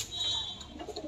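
Pigeons at a home loft keeping pulser and tippler breeds, giving a brief soft cooing call up close, with a faint higher tone in the background.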